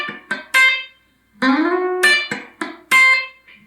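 Country guitar lick of picked single notes mixed with short percussive dead notes, played in quick bursts with brief pauses between phrases. It is close and clear, with no talk.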